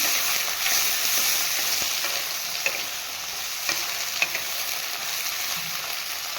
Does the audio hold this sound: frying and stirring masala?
yes